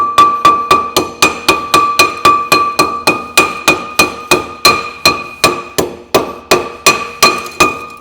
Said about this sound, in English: Knock all the rust off, and then after that, just work your way forward with the drum.